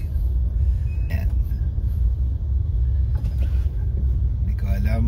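Busy street traffic in Sapote, with a continuous low rumble of cars and buses, a few louder passing vehicles and occasional brake hiss, while a person talks over it.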